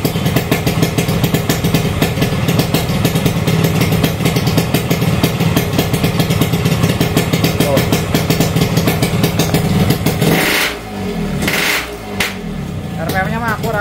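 A motorcycle engine idles with a steady, slightly uneven rumble close to the mic for about ten seconds before cutting out, followed by a few faint knocks and handling noises.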